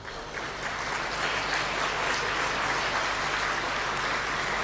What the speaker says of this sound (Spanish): Para ellos, un fuerte aplauso de bienvenida.